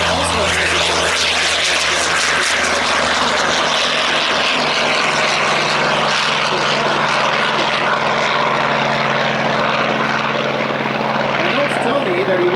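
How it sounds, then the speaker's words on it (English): An F8F Bearcat propeller airplane roars past at close range, its engine drone loud and steady throughout with a slight rise and fall as it passes. "Here comes Carter Teeters in the Bearcat, the F-8F Bearcat."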